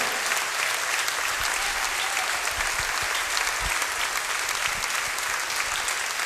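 A church congregation claps in a steady, dense wash of applause, loud and continuous throughout, with no voices rising above it.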